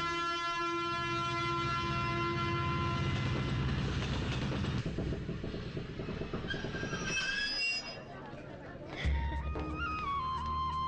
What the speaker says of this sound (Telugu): అమ్మో ట్రైన్ వచ్చేస్తుంది.